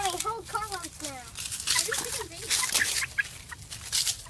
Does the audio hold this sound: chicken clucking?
yes